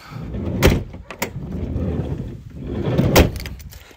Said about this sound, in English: This is a manual sliding door